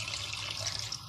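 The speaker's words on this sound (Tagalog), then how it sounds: "So, dagdagan naman natin ng water." Water pours steadily into a pot holding six cups of rice being prepared as Egyptian rice, a continuous close splashing hiss for about a second with no talk.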